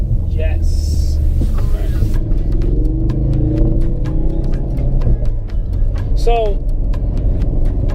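A 2016 Ford Focus RS with a manual gearbox driving through city streets, its engine and road rumble a loud, steady drone inside the cabin while someone talks briefly over it.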